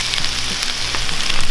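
Soy sauce hits gochujang pork fried rice in a hot pan, giving a loud, steady crackling sizzle with a few quick stirring scrapes, close up and without voices.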